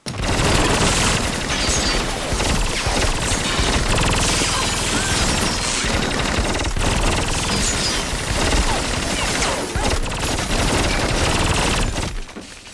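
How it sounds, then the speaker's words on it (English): Dense, rapid machine gun fire from the film Jason X rattles almost nonstop in a loud, chaotic barrage, with dramatic film-style sound and no talking. "during that hail of gunfire"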